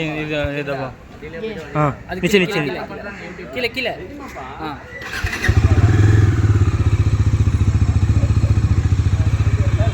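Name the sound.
motorcycle engine being started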